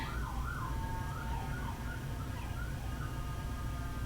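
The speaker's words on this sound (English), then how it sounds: "Can you hear those sirens?" Emergency vehicle sirens wail outside, distant and steady, their rising and falling tones faint under a constant background hum.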